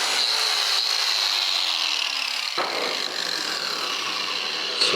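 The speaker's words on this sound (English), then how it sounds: "So after a little cutting, we've now separated the skin from the flange" A power tool cutting sheet metal on a 1958 Chevy Cameo truck to separate the body skin from its flange, a sustained whining grind with a falling tone that breaks off and resumes, close and loud, no talk.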